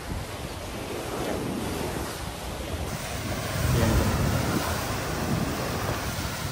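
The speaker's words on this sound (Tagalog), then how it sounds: "Lakas ng alon guys" Strong ocean waves surge and crash against a rocky shoreline, a continuous loud roar with a heavier swell building partway through, mixed with gusty wind buffeting the microphone.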